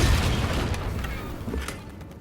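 A Confringo fire spell bursts in Hogwarts Legacy, striking near a damaged bridge: a loud, rumbling blast that hits hard at the start, then lingers as a broad roaring boom with a few smaller pops through the tail.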